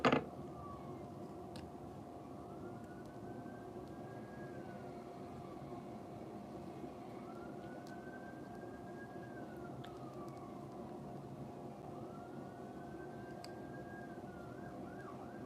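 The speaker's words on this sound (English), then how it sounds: "I keep hearing sirens." A distant siren wails in slow rising and falling sweeps, repeating several times over a steady low rumble of background noise.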